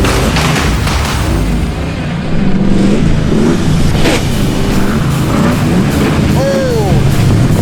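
A junkyard-built car's engine roars and revs close by as it climbs toward a jump, rising and falling with gear shifts, while people talk excitedly over the noise.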